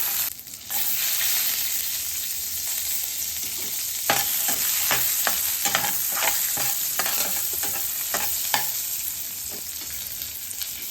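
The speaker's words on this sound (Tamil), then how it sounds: "இப்போ இது எல்லாத்தையும் சேர்த்து வதக்கிக்கலாம். பூண்டு, இஞ்சி." Garlic and ginger sautéing in a pan for paneer butter masala, with a constant frying sizzle broken by repeated scraping stirs of a spoon, close and clear without speech.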